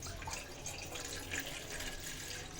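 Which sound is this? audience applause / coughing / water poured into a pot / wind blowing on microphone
water poured into a pot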